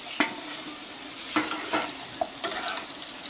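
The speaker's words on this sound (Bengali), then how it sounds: "আলুটা ভাজা হয়েছে, এবার কপিটাও দেওয়া হচ্ছে।" Cauliflower pieces hitting hot oil in a pan where potatoes were just fried, giving a soft sizzle with scattered utensil scrapes and stirring clatter over a steady low hiss.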